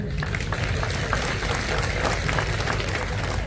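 Steady applause from a large crowd at a public political rally in Ujjain, a dense, even wash of clapping that holds for several seconds with no break.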